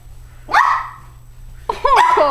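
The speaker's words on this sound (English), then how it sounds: "Oh, that was a weird bark, Gabs." A dog performing a trick gives two odd, yelping barks a second apart, close and loud, the second one drawn out and wavering.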